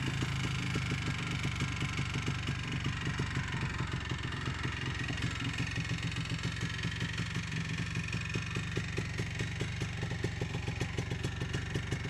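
A rare two-stroke three-wheeler that has not run in a while idles close by in a steady, rattly, fast-pulsing putter, uneven at times, with no talk.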